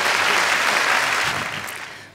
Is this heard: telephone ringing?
no